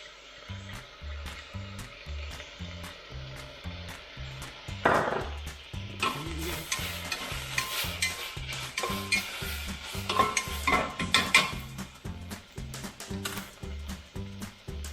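Garlic sizzling in a frying pan while it is stirred for a mushroom risotto, with wooden scraping and clinks against the pan over a steady rhythmic pulse, the sizzle flaring louder midway.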